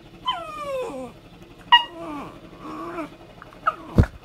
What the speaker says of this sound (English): Nothing like seeing yourself in the mirror and thinking it's another dog.